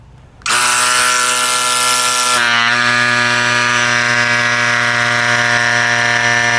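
Electric mini air pump inflating a tire, switching on abruptly into a loud, close, steady motor whine that drops slightly in pitch and roughens midway as the pump engages and runs continuously.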